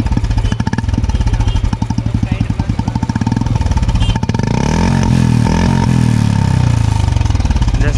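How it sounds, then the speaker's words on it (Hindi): A Royal Enfield Classic 350 (BS6) fitted with an Indori aftermarket exhaust thumps with a rapid, steady single-cylinder beat up close, then swells into louder revving and settles back down. "तो नेक्स्ट एग्जॉस्ट जो लगाए हुए पर के इंदौरी, तो स्टार्ट करते हैं इसको। सुन सकते हो बिना बेस का साउंड आएगा इसका।"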